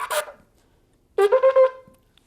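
A shofar's shevarim notes come as four clipped, choppy bursts in quick succession, far too short, after a brief earlier rasp and a pause of silence.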